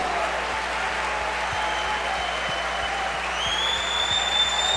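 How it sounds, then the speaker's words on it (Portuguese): Church congregation at a Sunday service applauds in a steady, dense wash of clapping, with a sustained tone from music or sound system running underneath. "Dê um aplauso a Jesus."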